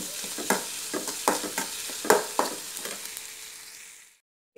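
Drumstick leaves being stir-fried for thoran in a pan, with a steady sizzle broken by repeated scraping stirs at a quick uneven pace, close and moderately loud, ending abruptly.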